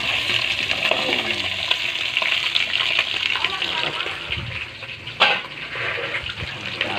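Duck pieces sizzle and hiss while being stirred in a hot pan at home, a steady crackling fry with scraping utensil clatter close by and a brief louder clank near the end.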